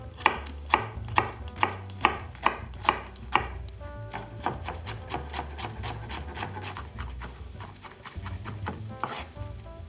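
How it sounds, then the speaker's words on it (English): A knife chops onion into a fine brunoise on a board, a rapid regular series of crisp close taps that softens and becomes quicker and lighter, with no talk. "Je vais faire une brunoise"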